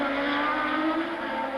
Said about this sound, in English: the flat 12 Ferrari engine behind him